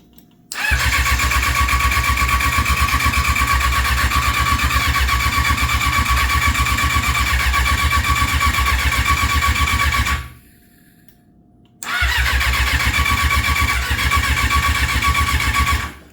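A Gen 1 Yamaha R6 motorcycle engine cranks and catches, running loud and close for about ten seconds, cuts out briefly, then fires and runs again.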